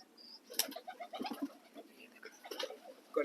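Ferozpuri pigeons coo softly in low, repeated throaty bursts, close by but quiet, with a few light chirps scattered between.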